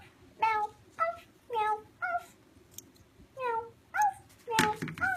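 A cat meows repeatedly at close range, about eight short rising-and-falling calls in an uneven rhythm over a quiet background hum, with a thump near the end.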